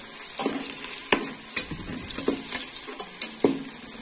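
Onions frying in a pan for mash dal: a steady broad sizzle with intermittent scraping stir strokes at an irregular pace, close and clear, no voices.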